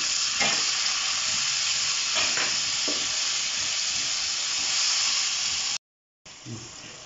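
Masala with dried coriander frying in a pan for mash dal, a steady loud sizzling hiss broken by occasional scraping stirs, with a brief dropout near the end.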